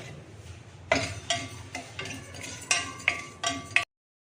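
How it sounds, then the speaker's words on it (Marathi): Asafoetida and turmeric dry roasting on low flame for homemade sambar masala, heard as a series of close, distinct metallic spoon scrapes and taps against the pan, about eight strokes in a loose rhythm, with no voices. "हिंग हळद आता व्यवस्थित मंद आचेवर भाजून घ्यायचं"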